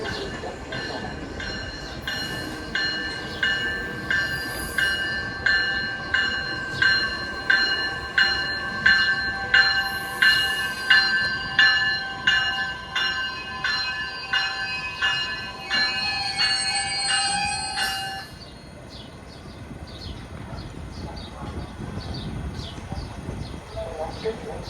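A Metra commuter train passes in Chicago. A long run of rhythmic, evenly spaced ringing tones sits over a steady rolling rumble, then the tones stop and the deep rail noise carries on alone.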